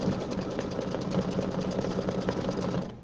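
Embroidery machine stitching an ornament design on a table runner, a steady, loud mechanical whir with a rapid needle rhythm running continuously throughout.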